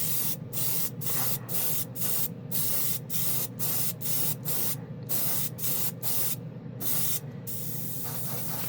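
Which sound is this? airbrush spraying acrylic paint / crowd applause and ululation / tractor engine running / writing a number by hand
airbrush spraying acrylic paint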